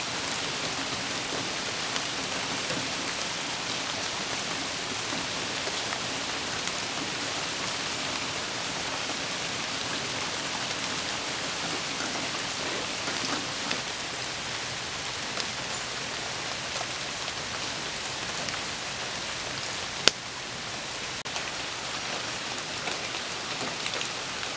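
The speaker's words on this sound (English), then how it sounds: "Because it's raining." Steady rain patters on surfaces close by, a dense continuous hiss with no voices, lasting throughout.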